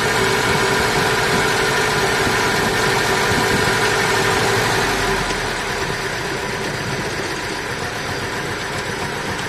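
An engine idles steadily after carburetor adjustment, running a little high with a constant loud droning rumble and slight vibration, no voices.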